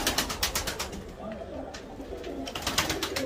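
Tumbler pigeons coo in a loft, a close, steady stream of soft, rolling calls repeating over a low background murmur.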